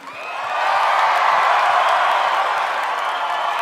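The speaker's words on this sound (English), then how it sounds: "Let's give our contestant one more round of applause" An audience applauding pageant contestants at the Miss Universe preliminary competition, dense steady clapping that swells within the first half second and holds loud and even to the end, with faint cheers mixed in.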